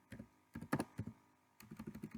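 Quiet, close keystrokes on a computer keyboard, a quick cluster of taps, a short pause, then a steady run of lighter taps.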